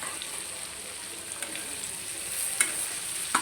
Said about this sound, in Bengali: পাঙাশ মাছগুলো আমি এখানে ভেজে তারপরে হালকা ভাজবো